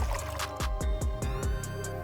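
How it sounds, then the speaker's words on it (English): Freshly squeezed lime juice trickles into a cocktail shaker in a quick series of soft, close drips and splashes, with no talking. "Next, I measure out 1 ounce of freshly squeezed lime juice and pour it into the shaker."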